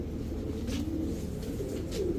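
Pigeons kept for sale give soft, low cooing that murmurs steadily through a short stretch of indoor background noise.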